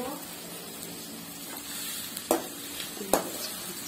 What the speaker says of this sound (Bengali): টমেটো কুচিটা ভালো করে ভেজে